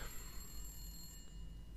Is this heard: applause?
no